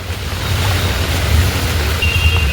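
Vehicle pushing through a flooded road in heavy rain: a constant low engine drone sits under a wide wash of water and rain noise, close and loud, without speech.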